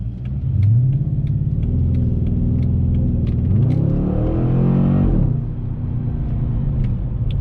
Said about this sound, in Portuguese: o V8 ronronando